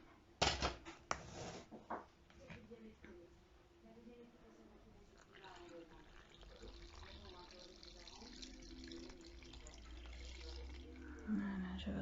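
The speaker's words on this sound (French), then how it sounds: "je verse mon eau" Water poured into a bowl of bread dough mix with salt and yeast for a no-knead pot loaf, a short splashing stream after a few clinks, followed by quiet bowl handling under soft talk.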